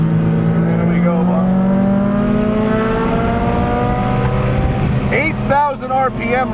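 A modified 420 WHP 2001 Subaru STI revs hard on a race track, its engine note climbing steadily in pitch toward an 8,000 RPM redline, loud and close inside the cabin, then shifting near the end.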